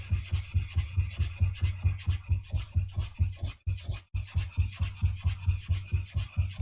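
A knife blade is flattened on a lapping stone in steady back-and-forth rubbing strokes, a close, rhythmic gritty scrape repeating about every half second with a brief pause midway.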